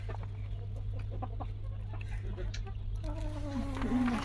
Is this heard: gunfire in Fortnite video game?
no